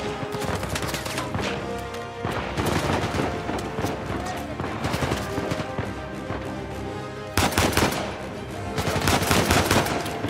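Gunfire during a firefight in Uncharted 4, including shotgun blasts: a rapid run of sharp, loud shots and bursts across the whole span, with a brief gap before a final dense volley, and a voice talking over the shooting.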